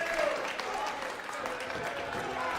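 A crowd applauds steadily at a darts finals night, a dense, even wash of clapping from a large audience with a faint voice underneath.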